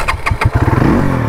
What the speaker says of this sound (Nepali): बाइक पनि स्टार्ट भइसक्यो